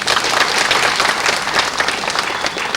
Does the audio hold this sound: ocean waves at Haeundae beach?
no